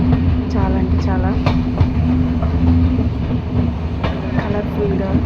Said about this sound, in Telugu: ఆ ట్రైన్ ఆ టన్నెల్లో నుంచి వెళ్ళేటప్పుడు ఇంకా చాలా బాగా అనిపించింది